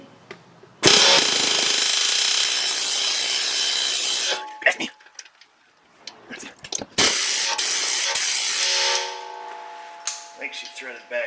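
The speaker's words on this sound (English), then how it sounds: "we're just going straight old school air hammer." A pneumatic air hammer working on the rear differential of a Ford Edge, hammering loudly and continuously in long bursts with brief pauses and clanks in between, close to the listener.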